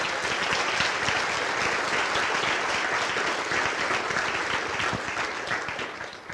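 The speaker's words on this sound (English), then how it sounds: "Could we give her a round of applause also?" An audience at an agency's annual State of the Agency address claps steadily for several seconds, a dense, even wash of applause that thins slightly toward the end.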